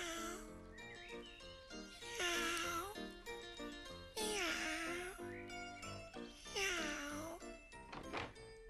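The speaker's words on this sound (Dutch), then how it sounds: "Kijk, poesjes." Kittens in a basket meowing in a children's cartoon, repeated high mewing calls rising and falling across the clip, fairly loud, over a musical, tonal background.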